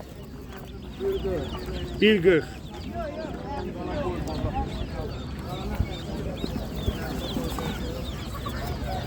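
Duck chicks peep in a dense chorus of high chirps at a Ganja poultry market, close and continuous, while people talk nearby over the birds.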